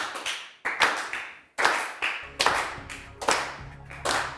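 Contestants on a Turkish word game show do a sad clapping dance, a handful of sharp, uneven bursts of hand claps separated by short pauses, close and clear.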